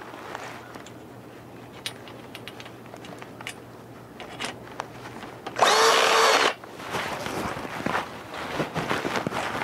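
Power drill driving screws into the frame of a portable modular low tunnel, one loud steady whirring burst of about a second, close by, amid quieter handling clatter and footsteps.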